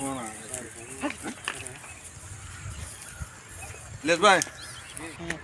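Goats in a village yard on a winter morning, with a short, wavering bleat close by near the end and people talking over the rest.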